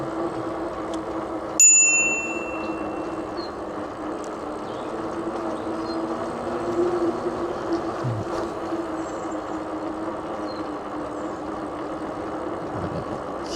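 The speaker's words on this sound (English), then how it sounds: "Okay, we'll use the bell." A bicycle bell gives one sharp, bright ring near the start, then fades under steady road and riding noise for the rest of the ride.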